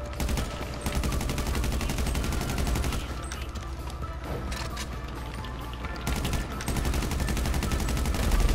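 Covering gunfire in a Grand Theft Auto V heist mission crackles as rapid, continuous bursts of automatic weapons and scattered shots, fairly distant and steady beneath a constant background din.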